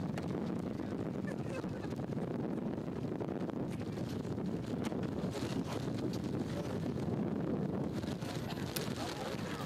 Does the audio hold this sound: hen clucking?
no